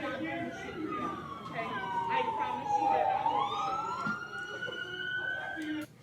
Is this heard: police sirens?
yes